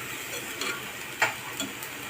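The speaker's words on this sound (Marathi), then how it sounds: "त्याचबरोबर बटाटा घेतलेला होता एक मोठा चिरून तो पण घालत आहे भाज्या आपल्याला चांगल्या परतायच्या आहेत" Chopped vegetables and potato for a mixed vegetable bhaji sautéing in a pan, a soft, steady sizzle with faint spoon stirs and a single clearer tick near the middle, fairly quiet and with no voices.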